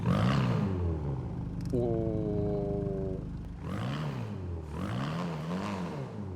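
A BMW cabriolet with a modified exhaust in GTA 5 cranks over and fires up, settling into a deep rumbling idle with a couple of throaty revs, with talk over it.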